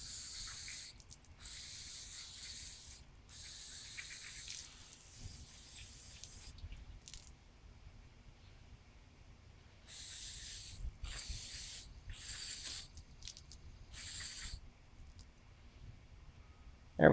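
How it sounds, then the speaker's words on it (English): Brake cleaner is sprayed onto a Canadiana lawnmower carburetor in repeated bursts of hissing, some short and some a couple of seconds long, separated by quiet gaps and fairly close. "Let me quickly spray this out."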